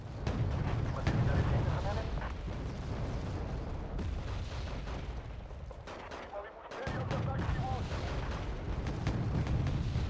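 Napalm rocket artillery fires in a video game, sending a continuous rolling barrage of booms and rumbling blasts that dip briefly and then swell again.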